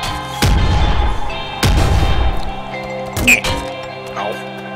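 Grenade launcher shots boom in the video game Nuclear Throne, two heavy blasts about a second apart followed by smaller pops and clinks, all close and loud.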